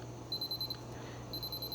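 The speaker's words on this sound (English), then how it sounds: "It's beeping, so that tells us the battery is good" A Canon AE-1 Program film camera beeps during its battery check, giving two short bursts of rapid, high-pitched electronic beeping separated by a brief pause, clear and close against a quiet background hum.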